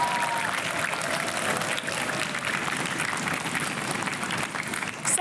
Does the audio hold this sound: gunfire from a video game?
no